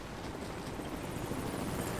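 A helicopter in the video game Rise of the Tomb Raider gives off a steady, loud broadband rotor and engine drone, with no clear individual blade chops.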